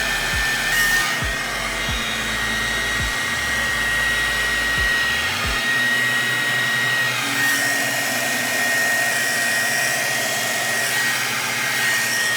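A heat gun blows a steady loud whooshing roar while shrinking heat-shrink tubing onto a crypto mining power cable. The tone stays constant and close throughout, with no speech.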